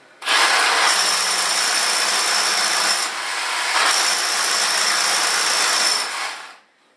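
A power drill bores through a concrete wall for a waste water drainage line, grinding loudly and continuously with one brief dip in the middle, then winding down at the end.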